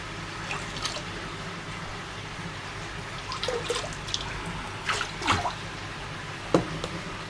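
Water in a fish tank with brine shrimp sloshes and swirls as it is stirred, with small splashes and drips, rising in a few bursts near the end, close up and without talk.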